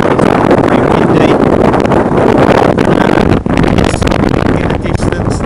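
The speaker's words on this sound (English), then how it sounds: "It's very windy." Heavy wind batters the microphone in a loud, constant roar on a coastal walk at St. Osyth as rain begins, easing briefly midway before gusting again.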